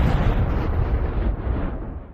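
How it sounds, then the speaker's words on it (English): A parcel bomb goes off, a deep, booming blast whose roar fills the moment and then slowly fades away. "there was an explosion"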